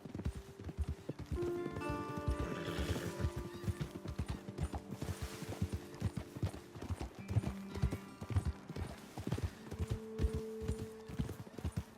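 Horse hooves clip-clop steadily on hard ground at a walking pace in the video game Red Dead Redemption 2, with a horse's whinny and snorts mixed in, fairly close.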